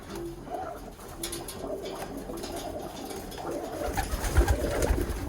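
Birmingham Roller pigeons cooing in a loft, soft low coos repeating over a steady background hum, growing louder and more frequent toward the end.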